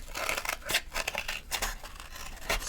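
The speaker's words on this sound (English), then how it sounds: "I have to cut cardboard to fit" Scissors snipping through cardboard in a quick run of crisp, repeated cuts with a papery crunch, close and alone, while trimming material to fit for a jewelry mask.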